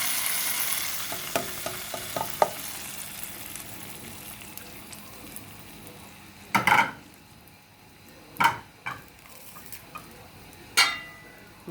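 Food sizzles softly in a pan on the stove with a steady frying hiss, broken by several sharp knocks and clatters of a utensil against the pan.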